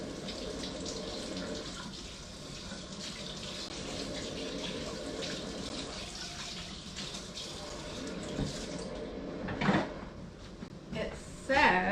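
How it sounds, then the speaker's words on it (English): Tap water runs steadily while the bottom of an Almond Cow milk maker is rinsed, a soft continuous splash with a few clunks and knocks near the end, faint and somewhat distant. "It says not to wash the black part, but to rinse the bottom like this."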